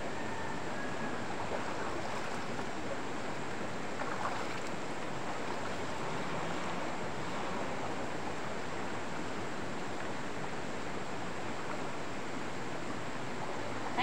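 Steady broadband rush of river water flowing nearby while someone washes in the river, continuous and even throughout with no voices.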